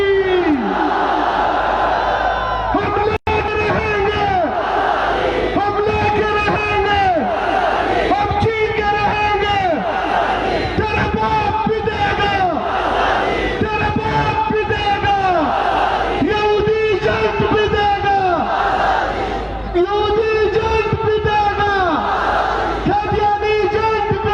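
Political rally crowd at the Freedom March tent grounds in Sukkur, October 2019, roaring chanted replies to a Takbir slogan: loud, massed shouts rising and falling in repeated waves with no pause throughout.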